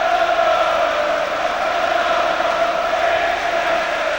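A large football stadium crowd at a Manchester United Champions League qualifier against Zalaegerszeg in 2002 keeps up a steady, dense roar, loud and continuous with no clear peaks or lulls.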